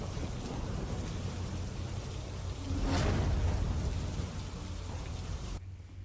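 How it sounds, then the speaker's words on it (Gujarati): Heavy monsoon rain pours over the Amroli area of Surat city: a steady, dense hiss of downpour on surfaces, swelling briefly louder midway before settling back, with no voices. "અમરોલી વિસ્તારમાં પણ વરસાદ છે"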